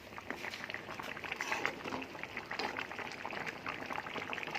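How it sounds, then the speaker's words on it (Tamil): Thick chicken curry bubbling at a steady boil in a pot, a dense close burble of small pops and gurgles without pause. "குழம்பு கொதிக்க ஆரம்பிச்சிச்சு."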